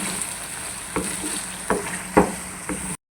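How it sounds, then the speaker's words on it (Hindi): Yogurt sizzles steadily as it is fried into a chicken qorma, with a few louder scraping stirs cutting through the constant hiss of the hot pan. "ये अब मैं इस दही को भी भूनूंगी अच्छी तरह, वो भी इसमें मिक्स हो जाएगा।"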